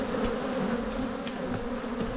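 Honey bees buzz in a dense, steady drone at abandoned beehives that have never been inspected, a close continuous hum without voices.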